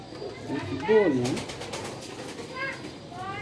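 A black-faced pigeon coos nearby in a soft, throaty warble, with a couple of shorter coos following over a faint background murmur.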